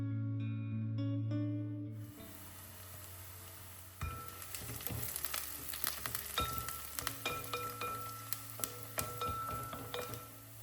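Shallots, ginger and garlic sautéing in a pan for a Kannur-style beef dish, a steady frying sizzle with scattered clinks and scrapes of a spoon against the pan, close and continuous with no talking.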